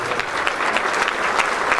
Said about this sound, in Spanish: Ese aplauso, sí,